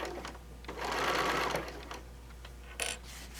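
A sewing machine stitches the seam of a fat quarter bag in one steady whirring run of about a second, starting and stopping cleanly. Soft fabric handling and faint clicks follow, with no talk.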